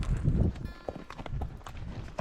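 A horse's hooves clip-clop at a steady walk over backcountry ground, fairly close and moderately loud, with some low rustle and no talking.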